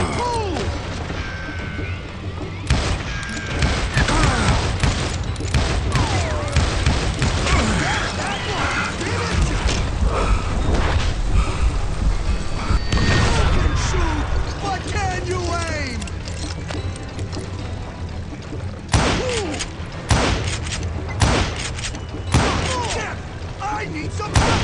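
Repeated gunshots in the Western shooter Call of Juarez: Gunslinger, a dense, loud barrage of cracks and impacts that keeps up across the whole stretch, with brief lulls and a voice talking over the firefight.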